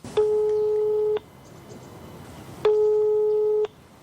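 Telephone busy signal from an unanswered call: a steady electronic tone repeating in roughly one-second bursts separated by gaps, loud and close over a faint background.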